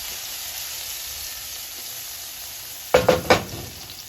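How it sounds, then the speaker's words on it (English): Garlic and fresh red peppers sizzle in a hot pan with a steady, even hiss. Near the end, a few quick stirring scrapes and clatters cut in. "Cook that garlic and peppers till aroma."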